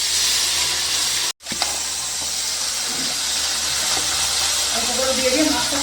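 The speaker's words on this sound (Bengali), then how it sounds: "তেল গরম হয়ে গেছে, এখন মাছ ভেজে নেব।" Small chuno fish fry in hot oil in a kadai, giving a loud, steady, close sizzling hiss that cuts out briefly for a moment and then resumes.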